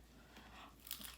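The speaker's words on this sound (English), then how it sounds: "That crunch though is real." Popeyes voodoo fried chicken is bitten with a short crunch followed by crackly crisp chewing close to the mic, faint and without talk.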